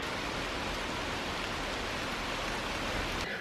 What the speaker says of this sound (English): It's raining quite a bit now.